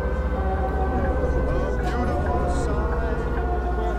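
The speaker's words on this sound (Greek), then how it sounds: "το ασθενοφόρο μας τρελάνε ρε" An ambulance siren wails in the Bus Simulator 16 game, a sustained tonal warble over a low engine drone that persists throughout.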